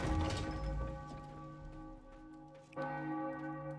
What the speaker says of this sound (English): That bell is really annoying.